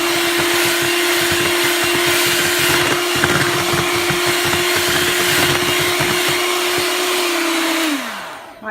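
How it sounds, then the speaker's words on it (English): Electric whisk beating chickpea cake batter with the dry ingredients, a loud steady motor whine with buzzing rattle held for about eight seconds before it winds down and stops. "Whisk those together as well."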